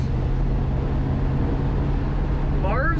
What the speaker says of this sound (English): Ah, and that exhaust.